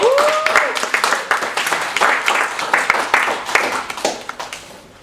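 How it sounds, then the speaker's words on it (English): Audience applause at a leadership talk, a steady spatter of clapping that fades toward the end, with a brief voice at the start. "Give her a big round of applause"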